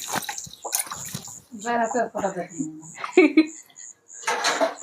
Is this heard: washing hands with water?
yes